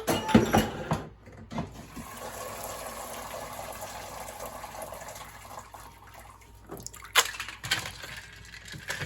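Blanched mustard spinach splashes into an ice bath with a short gush and slosh of water at the start, followed by quieter trickling and a second splash near the end.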